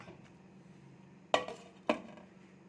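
Two sharp clinks of a lid being set onto a bowl of marinated chicken resting in a kitchen, a single quick knock near 1.3 seconds followed by a second about half a second later, over a quiet room hum.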